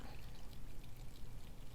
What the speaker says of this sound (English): you're going to add to that a 1/4 cup of boiling water